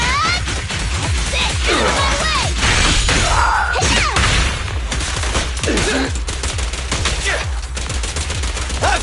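Rapid gunfire from the character Billy in the game Zenless Zone Zero, dense bursts of shots with crashing impacts and game effects, loud and continuous, with voiced combat lines mixed in.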